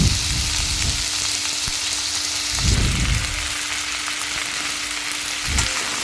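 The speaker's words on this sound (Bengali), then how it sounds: "তো এবার আমি সবজিগুলোকে 10 মিনিটের জন্য 10 থেকে 15 মিনিটের জন্য ভালোভাবে কষিয়ে নেব" Vegetables and a fish head with green chillies, salt and turmeric sauté in a pan for chhechra. A loud continuous sizzle is punctuated by three heavy scraping stirs, spaced a few seconds apart.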